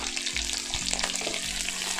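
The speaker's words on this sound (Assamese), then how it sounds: "আৰু এইখিনি এতিয়া আকৌ মই পুনৰ 10ৰ পৰা 15 ছেকেণ্ড ভাজিম।" Onion and large-cut capsicum frying on high flame for chilli chicken, giving a steady loud sizzle with occasional stirring scrapes across the short stretch, no talking.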